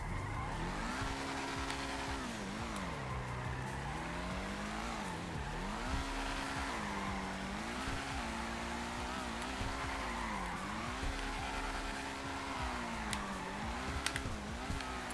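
Engine of an Ocelot Lynx sports car in GTA Online, a continuous revving roar that rises and falls through gear changes, with tire squeal and skidding over a steady driving rumble and no speech.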